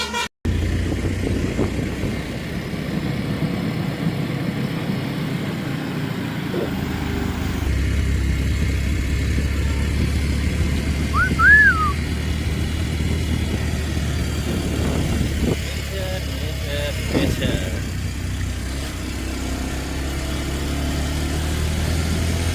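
A motorbike with worn tyres and a weak light rides a forest track, its engine droning steadily and loudly for the whole stretch, with a rougher, busier rumble early on and no voices.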